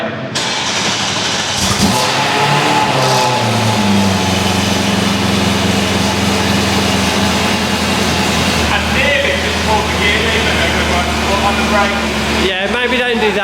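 An E30 BMW M3 fitted with a Drenth sequential gearbox cranks and fires up, then settles into a loud, steady idle with a low rumble that runs throughout, briefly blipping near the end.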